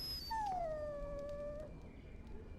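In Dragon Age: Origins, a warhound lets out a long, high, drawn-out whimper that slides downward and tails off. Steady game ambience plays underneath it.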